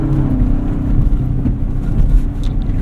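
Turbocharged engine of a 2025 Toyota 4Runner TRD Pro driving off-road, a steady loud low drone with slight rises and dips in level, heard close without any speech.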